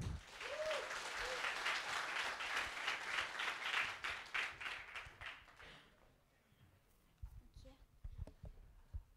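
Audience applause greeting a speaker at the VietAI Summit conference, a dense, steady crowd clapping that fills the first several seconds and then thins into scattered claps before fading.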